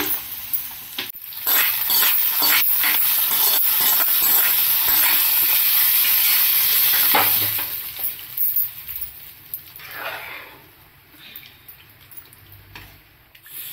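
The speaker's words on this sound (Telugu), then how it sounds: "ఇప్పుడు పప్పులో వేసేసుకోవడమే పోపుని." Hot tempering with curry leaves, fried in oil, is stirred into raw mango dal in an Andhra-style kitchen; a loud, steady sizzle with scraping stirs and light clinks eases into quieter, intermittent stirring.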